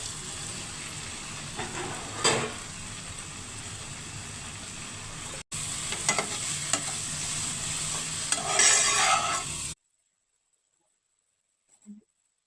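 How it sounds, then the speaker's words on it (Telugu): Okra pieces stir-frying in tomato masala for a homemade bhindi masala, with steady sizzling and stirring scrapes that carry through most of the clip, then a sudden drop to near silence near the end. "ఇప్పుడు బెండకాయ ముక్కలు వేసుకుందాం."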